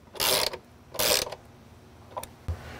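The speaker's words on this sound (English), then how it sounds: "ratchet them down to where they're snug" A ratchet snugs down bolts during a side cubby install on a Jeep JKU Rubicon, heard as two longer close bursts of clicking and then a couple of short, fainter ticks and a knock, with no speech.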